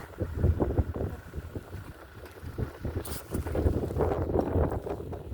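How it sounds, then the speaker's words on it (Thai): Strong wind at a boat pier buffets the microphone in uneven gusts, a rumbling, flapping roar that rises and falls throughout. "วันนี้ลมแรงนะคะ ลมแรงมาก"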